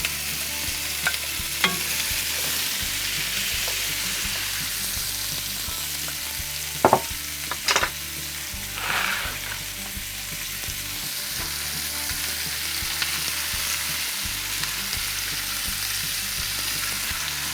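Celery, onions and diced potatoes sizzle and fry in a pan in a steady, moderately quiet hiss, with a few sharp clinks and scrapes of stirring, and no voices.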